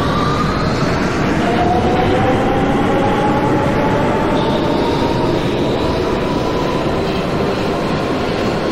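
An R160 New York subway train on the E local line in the OpenBVE simulator runs steadily and loudly, with a continuous rumbling roar, wheel noise and rising whining motor tones, with no talking.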